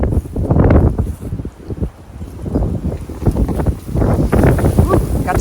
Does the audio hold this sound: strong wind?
yes